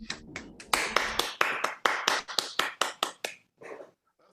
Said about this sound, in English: Let's all give Nadja a big round of applause.